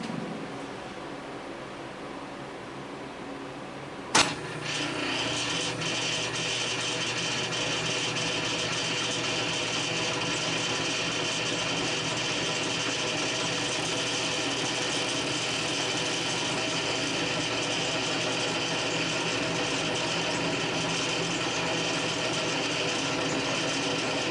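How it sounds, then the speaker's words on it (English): A restored Sheldon 13 lathe chuck spins up with a sharp click, then runs at a steady, loud mechanical whir with a continuous high whine and rattling gear hum, holding for about twenty seconds. "It's never a good idea, supposedly, to spin up a chuck with nothing in it."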